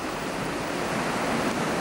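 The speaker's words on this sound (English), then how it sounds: "of tons of water forcing their way between the rocks" Tons of high river water forcing its way between rocks roar in a dense, steady broadband rush, constant and loud throughout with no talk.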